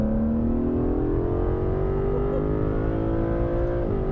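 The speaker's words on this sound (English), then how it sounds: "Drop it down to third, see what 630 Great British horsepower feels like." A 630 hp Aston Martin DB11 AMR engine revs steadily upward in third gear in a single rising drone, loud and close, briefly easing near the end.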